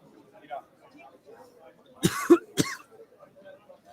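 A couple of sharp coughs ring out close to the microphone during a post-fight boxing press conference stream, standing out against quiet background talk and room noise.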